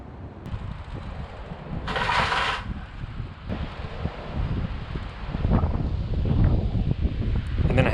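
Strong wind gusts outdoors during roadside work on a 2000 Honda CR-V, buffeting the microphone with a steady low roar that swells and eases across the whole stretch, with no one speaking.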